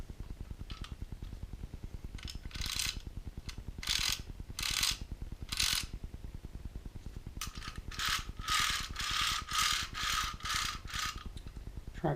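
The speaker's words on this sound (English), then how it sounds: "Tracks roll super smooth." Plastic tracks of a Manitowoc MLC650 model crawler crane roll over a surface, giving a steady close ratcheting clatter with repeated bursts of bright clicking, alone without talk.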